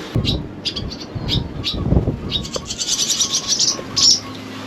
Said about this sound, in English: So we've got 2 young swallows here.